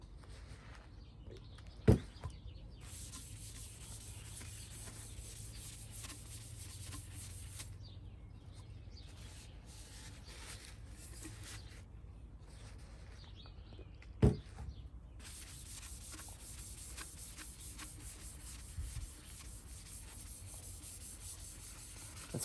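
Steady rag rubbing on a silver metal tumbler being wiped down with adhesion promoter before sublimation glazing, a soft continuous scrubbing texture at close range with two sharp knocks against the cup.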